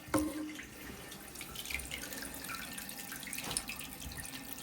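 Water rushes back into a toilet tank after the shut-off valve under it is reopened, a faint, steady hiss and trickle with a few small drips and splashes throughout.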